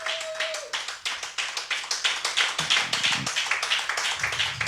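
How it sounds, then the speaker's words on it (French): Church congregation clapping together in steady rhythmic applause, a dense run of many hands close and loud throughout. "Acclamons pour Jésus."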